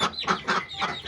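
Village chickens clucking as they are let out of their coop, a series of close, rhythmic squawking bursts with no talking.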